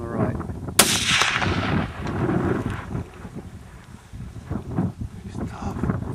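A rifle shot at an Alaska-Yukon moose during a hunt cracks sharply near the start, then lingers in wind noise while people talk over the rest.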